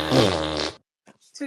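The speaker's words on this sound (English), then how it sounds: "To commemorate his continued farting in our spaces" A whoopee-cushion style fart sound effect, one loud, drawn-out buzzy blast lasting most of a second, then a few short, faint sputters trailing after it.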